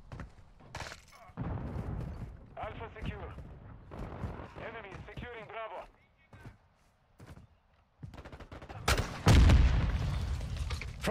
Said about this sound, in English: a noob tube is a grenade launcher or explosive things